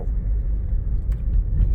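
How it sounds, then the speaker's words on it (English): An Acura MDX with noisy brakes gives a steady low roar while driving, with continuous road and cabin rumble throughout and a faint jingle of keys near the end. "our brakes are not grinding, but they are making a roar"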